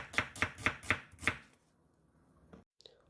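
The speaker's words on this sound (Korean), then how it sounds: "손질한 양파 반 개를 채 썰어 놓습니다" Half an onion is julienned with a kitchen knife on a cutting board: five crisp, evenly spaced chops ring out close and clear, followed by quiet and a faint clatter.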